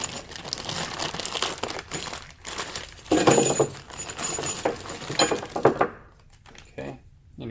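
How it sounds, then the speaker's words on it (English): A bag of fasteners and washers for a chute assembly is torn open and handled, with plastic crinkling and small metal parts clinking and jingling nearby before the sound drops away. "I'm going to open up my bag of parts here, the fasteners and the washers and everything"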